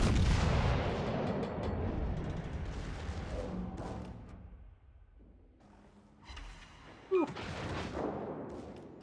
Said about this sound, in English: the guns on here are rather painful